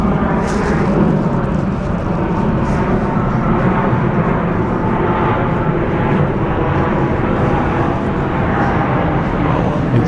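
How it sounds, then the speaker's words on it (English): A jet airplane roars overhead near Ormiston Mall at dusk, a loud continuous broadband rumble that holds steady for the whole stretch with no talk over it. "Airplanes always flies over here"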